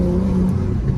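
A BMW F30 335i engine gives a short, steady rev, a close, humming drone that holds for about a second without changing much.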